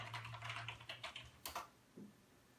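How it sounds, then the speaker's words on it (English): Quiet keystrokes on a computer keyboard typing in a search word, a short uneven burst of clicks with a couple of sharper taps near the end, close and soft, no speech. "so I'll type in basketball"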